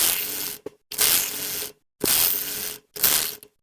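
A sewing machine sews aso-oke fabric for a fan and ruffles autogele in four short, close, rattling bursts separated by brief silences.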